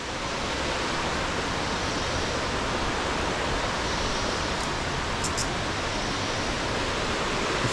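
El Salto waterfall pours into a river pool on the Fortuna river in Costa Rica, a dense, loud, constant rushing roar filling the whole scene without a break.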